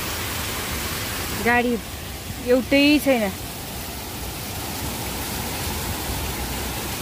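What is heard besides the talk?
heavy rain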